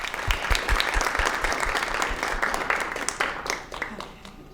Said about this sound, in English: let's give Skylar a big round of applause.